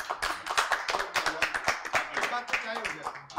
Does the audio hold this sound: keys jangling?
no